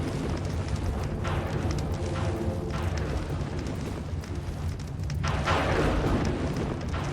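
Lightning sparks crackling on the ground in a horse riding video game, a continuous rumbling crackle with louder bursts of sizzling noise, faint hoof clip-clops beneath, no voices.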